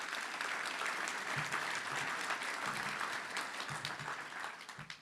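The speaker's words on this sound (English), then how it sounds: "let's give that year a round of applause." An audience at a Little Rock Touchdown Club luncheon gives a sustained round of applause for an athletics year, a steady wash of many hands clapping that fades slightly toward the end.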